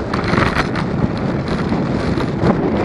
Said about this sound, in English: Not quite sure why it's so windy.